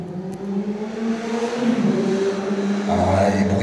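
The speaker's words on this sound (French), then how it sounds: "les bruits parasites, on entend une moto" A motorcycle engine drones steadily close by, its tone rising and shifting as it passes, with a deeper rumble swelling near the end.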